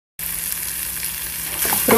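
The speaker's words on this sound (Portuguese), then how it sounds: "Nossa calabresa já está começando a fritar." Sliced calabresa sausage fries in its own rendered fat with a loud, steady, close sizzle that never breaks. A sharper spatter and a scrape come near the end.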